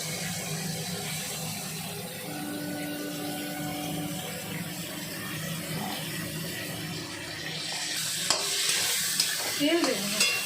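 Chopped onion sizzles and crackles steadily in a little leftover oil in a pan while cooking a Malabar spinach ghonto, with soft stirring scrapes and a few sharper clinks near the end.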